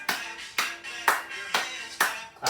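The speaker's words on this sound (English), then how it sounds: "Clap the hands." Hands clap in a preschool gymnastics class, six sharp, evenly spaced claps about half a second apart, close and crisp with a short ring after each.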